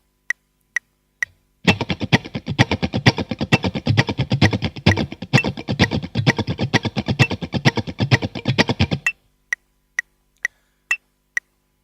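A funk guitar plays a rapid, cleanly muted sixteenth-note strum pattern at 130 BPM, dense and percussive for about seven seconds, framed by steady metronome clicks before and after.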